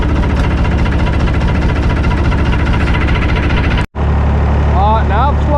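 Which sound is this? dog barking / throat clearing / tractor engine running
tractor engine running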